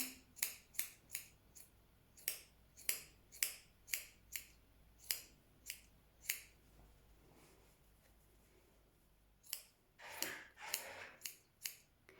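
Scissors snipping knitting yarn, a long run of crisp close clicks at a quick, slightly uneven pace, with a short pause and rustle before more cuts.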